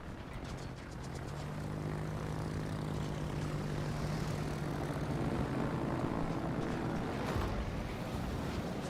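Propeller aircraft engines drone steadily in a World of Warships naval battle, a continuous loud mechanical hum with a low sustained tone and broadband roar, carrying on without speech for about nine seconds.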